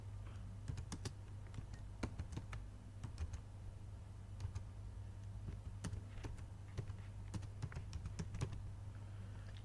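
Quick, uneven keystrokes patter on a computer keyboard while JavaScript code is entered, close and steady with brief pauses and faint background hum.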